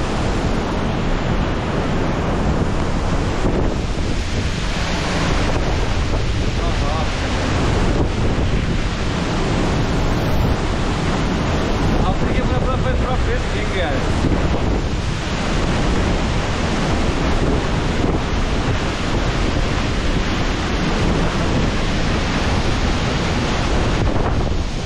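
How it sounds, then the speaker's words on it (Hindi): Waterfall spray splashes and roars without pause in the Mussoorie hills, a loud dense rushing wash of water very close by, broken by gusty rumbles like wind buffeting the microphone. "यहाँ पर ना गाइस पूरा पानी का फुहारा आ रहा है फेस पे।"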